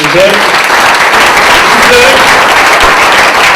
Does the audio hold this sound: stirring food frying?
no